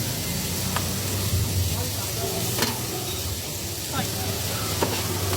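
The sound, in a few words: garlic and peppers sizzling while sautéed in a pan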